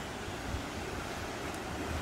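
Ocean waves washing steadily along a seashore, with a continuous broadband surf wash and some wind noise across the microphone, loud and unbroken, no voices.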